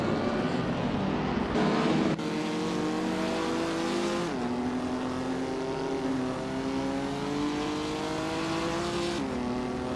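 Engine of a classic 1949 ATC Midget race car in a racing game at the Oschersleben circuit, droning loudly and steadily for the whole stretch, the pitch climbing through the gears with a few clear shifts, and no voices over it.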